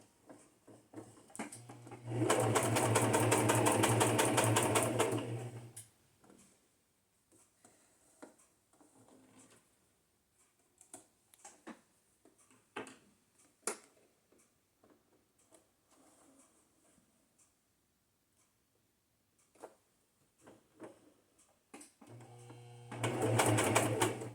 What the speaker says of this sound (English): I wanted to share this video with you where I was actually sewing on them.